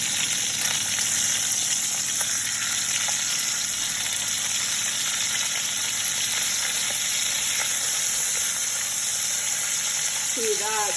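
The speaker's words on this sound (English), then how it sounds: "this is literally just to render out the fat and crisp the skin" Meat sizzles steadily in a hot pan as fat renders and the skin crisps for a cassoulet, a dense, continuous frying hiss at close range with faint background voices.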